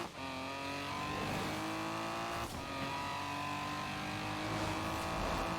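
A car in the racing game Forza Horizon 4 drives through highway traffic, its engine droning loud and steady with rising and falling revs across the clip and no talking.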